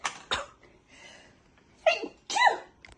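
A person sneezes several times, sharp close bursts with two strong ones near the end, separated by breathy pauses.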